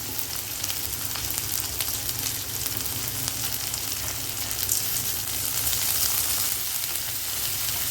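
Onions sauté in a pan, making a steady close sizzle with a soft bubbling hiss that keeps going without a break and swells slightly toward the end.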